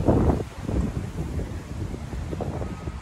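Strong wind gusts buffet the microphone outdoors at a memorial walk, a loud rumbling roar that swells and eases continuously with no talk.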